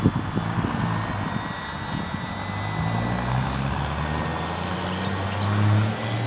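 An SBACH 342 model airplane's engine drones steadily as it climbs high in calm conditions, a sustained buzzing tone that swells slightly toward the end, heard from the ground with no talk.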